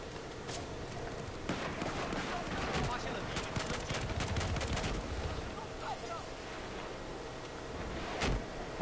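Gunfire in Battlefield 4 crackles as repeated sharp shots and bursts at moderate loudness, with one strong blast near the end, over a continuous noisy battle background.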